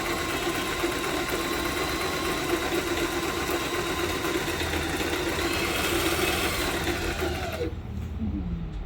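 Singer automatic sewing machine stitching at a steady fast whir for most of the stretch, loud and close, then cutting off abruptly near the end.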